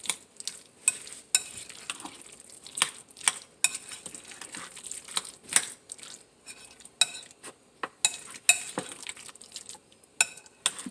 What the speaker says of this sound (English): Just want to mix that in well